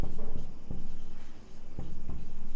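Marker or chalk strokes on a board while working out a triangle's area with Heron's formula, several short taps and scrapes over a steady background hum.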